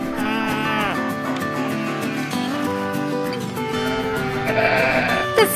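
Sheep on a farm bleating repeatedly, loud and close, with several wavering calls one after another over a steady background.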